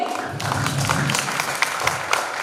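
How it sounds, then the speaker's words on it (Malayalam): An audience claps at a school courtyard closing ceremony for a disability awareness month at Vadakkanchery Boys High School, producing a dense, steady patter of many hands throughout. "നല്ലൊരു കൈയടി"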